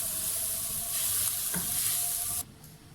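A spatula scrapes and turns chicken and vegetable spring roll filling in a hot pan over a constant soft sizzle, a few clear strokes, then the sizzle drops away abruptly near the end.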